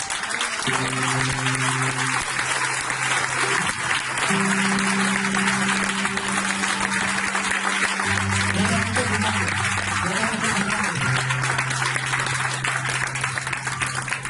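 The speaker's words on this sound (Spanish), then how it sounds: "¿Cuánto le podemos dar un fuerte aplauso a Dios?" Loud applause from a church congregation, dense rapid clapping running continuously under sustained musical tones, likely an organ or keyboard, that shift pitch through the passage.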